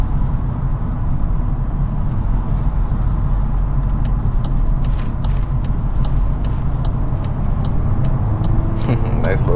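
Cabin of a 2022 Volkswagen Golf R with DSG gearbox and turbo engine, a steady loud low drone of the engine pulling under acceleration, with faint clicks later on and a voice speaking over it.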